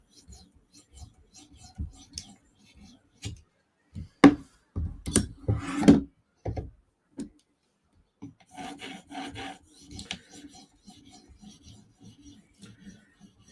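A Lynch Titanium Shaman knife in M4 steel is sharpened on a 5000 grit whetstone, with short scraping and rubbing strokes that come in bursts, a louder cluster in the middle, then quieter rapid passes.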